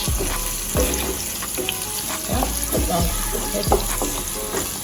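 Saltfish frying in a pan, a low, steady sizzle broken by several scraping clatters of a utensil stirring, with faint talk in the background.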